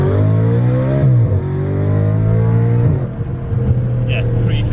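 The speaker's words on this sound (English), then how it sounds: "give you guys some V8 noise" An Audi RS5 V8 engine revs up and down in loud, throaty surges, with rising and falling pitch, close by, with brief voices near the end.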